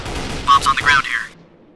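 A sniper rifle in Counter-Strike: Source fires as a loud, close shot with a sharp attack that cuts off and fades quickly, alongside brief voice-like tones.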